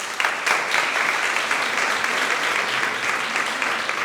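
A literary contest audience in Villa de La Orotava applauds a poet before a poetry reading, with thick, continuous clapping, loud and close, holding steady for several seconds without speech.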